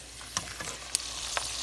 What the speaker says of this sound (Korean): 지금 김부각을 튀기고